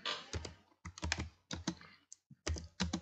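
Fingers type on a computer keyboard at close range in uneven bursts of quick clacking keystrokes, with short pauses between runs. No one speaks.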